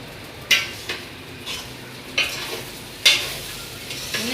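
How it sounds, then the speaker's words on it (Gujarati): Bottle gourd dhokla stirred in a pan over a low gas flame, with soft sizzling beneath repeated scraping strokes and sharp utensil clicks against the pan at irregular intervals. "ધીમે ધીમે આવી રીતે હલાવતા રહે."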